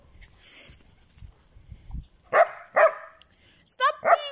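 Dogs at home barking in short sharp bursts, three or four loud close barks near the end, with a person scolding them between and around the barks.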